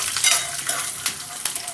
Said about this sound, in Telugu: ఇప్పుడు ఇందులోకి ఒక 1/2 స్పూను ధనియాలు వేసుకుందాం. అలాగే ఒక 50 గ్రాములు పల్లీలు వేసుకుందాం.